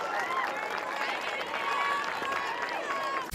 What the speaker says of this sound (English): how about a big round of applause for your Maplettes?